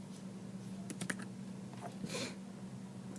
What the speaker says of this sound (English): actually I'm going to type it